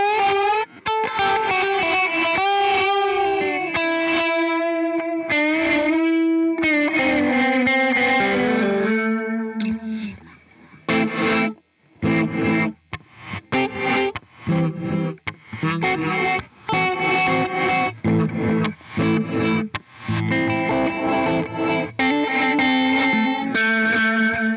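An electric guitar plays through an Electro-Harmonix Ocean 11 reverb pedal set to echo mode, clear notes and chords trailed by repeating echoes, the first phrases sustained and the later ones choppier, with no talk.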